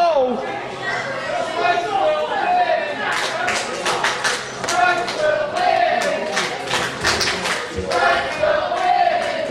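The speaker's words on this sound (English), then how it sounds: "Crowd's chanting, Stripes will win." Wrestling crowd at a Melissa Stripes vs Amy Lee match, a steady roar of chanting voices with rhythmic claps, carrying on beneath continuous close commentary.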